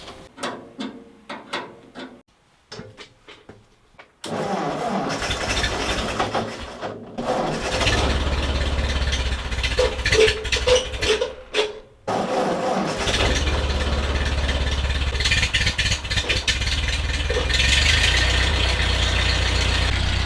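A Ford 8N tractor, just repaired, cranks with a series of sharp mechanical clicks and brief pauses, then catches and runs as a loud, steady low engine rumble that keeps going, briefly cutting out once before settling into continuous running.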